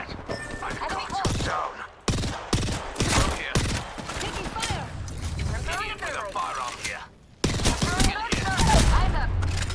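Gunfire in the video game Apex Legends crackles in scattered sharp bursts throughout, mixed with other game effects and occasional voice callouts.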